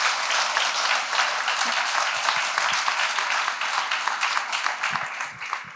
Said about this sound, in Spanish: Dale fuerte el aplauso, Señor.